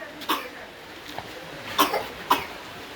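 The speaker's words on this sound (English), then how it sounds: "That's a little cough." A few small, soft coughs come in quick succession over a quiet outdoor background on a waterfall hike, faint and brief.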